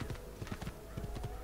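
Hooves of a horse clip-clop in Assassin's Creed 2, an even, repeating gait heard close and fairly quiet with no other sound on top.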